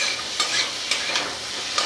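Potato and squash frying with coriander seeds in a pan over a raised gas flame, a steady close sizzle broken by a few scraping stirs of the spatula, with no voices.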